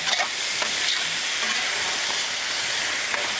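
Beef and broccoli sauce with cornstarch gravy sizzling on a Blackstone griddle, a steady bright hiss of frying close by with a few faint scrapes of stirring, no voices.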